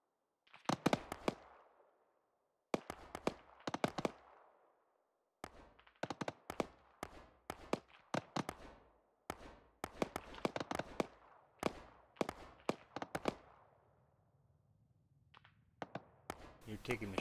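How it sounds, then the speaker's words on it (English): Rapid bursts of machine gun fire in the video game Insurgency, coming in repeated loud clusters of sharp cracks with short pauses between them, and a low rumble underneath toward the end. "Taking machine gun fire from the next village set of buildings over."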